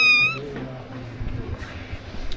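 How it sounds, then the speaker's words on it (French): A cat meows once, loud and close, at the start in a Moroccan medina, followed by quiet street ambience with faint background voices. "il y a des chats partout"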